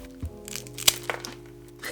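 Crunching a homemade black sesame senbei rice cracker, hollow inside: one sharp crack followed by a couple of softer crunches, close and alone.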